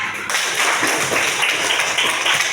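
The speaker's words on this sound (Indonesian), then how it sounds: "tepuk tangan semuanya" A fifth-grade class clapping together in a classroom, a sudden burst of many small hands that starts sharply and continues as a steady, fairly loud patter.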